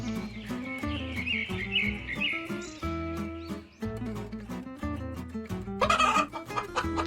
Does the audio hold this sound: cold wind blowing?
no